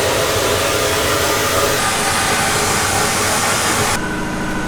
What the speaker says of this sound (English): So that's just stripping the paint off, and we'll get to some polishing here in a minute.